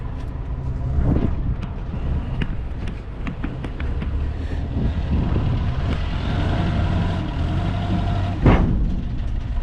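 A forklift drives around a muddy ranch, its engine rumbling low and steady at moderate distance with wind buffeting the microphone and a brief clunk near the end.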